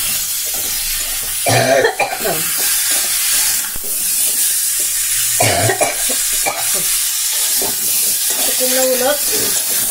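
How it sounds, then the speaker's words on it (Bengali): Cut pumpkin pieces frying over a high flame, a loud continuous sizzle with occasional stirring scrapes, and a voice talking briefly over the noise. "কাটা কুমড়োগুলো দেওয়ার পরে ফ্লেমটাকে আমি একটু বাড়িয়ে দিলাম, হাই ফ্লেমে করে দিয়ে ভাজা করে নেব"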